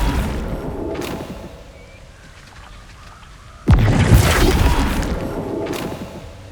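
Flipendo spell impact in the Hogwarts Legacy video game: quiet ambient rumble, then a sudden loud booming crash that lingers and slowly decays, with another softer hit near the end.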